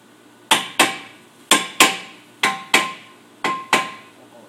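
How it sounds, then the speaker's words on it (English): A hammer strikes metal in sharp pairs during a front brake job, double blows repeated four times at a steady rhythm, loud and close with ringing decay. "gonna take your hammer."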